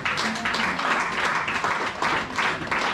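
Church congregation applauding together, a steady dense clatter of many hands that swells and eases in waves, fairly close and filling the space, with no voices over it.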